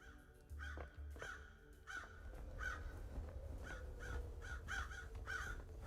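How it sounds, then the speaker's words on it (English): Repeated crow caws from the video game Paradise Killer, several birds calling in short bursts at a steady pace over a low ambient game background, no talking. "That's a lot of birds."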